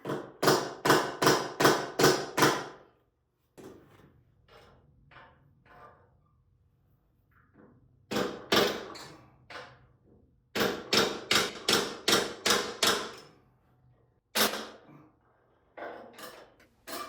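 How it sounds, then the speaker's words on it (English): Mallet blows on a Honda CB750 Four motorcycle ring out in quick bursts of four to six sharp strikes, separated by quieter pauses with faint light tapping, close and loud. "And then the day ended with excessive hammering."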